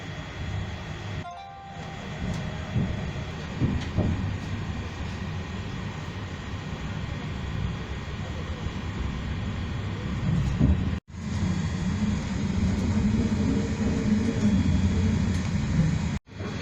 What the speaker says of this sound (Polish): Pociąg ruszył.